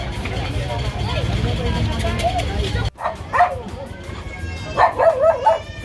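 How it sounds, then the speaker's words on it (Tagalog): On a busy Philippine street during a road-clearing operation, a dog lets out a few yipping barks amid traffic rumble and people talking nearby. "May aso pa dito"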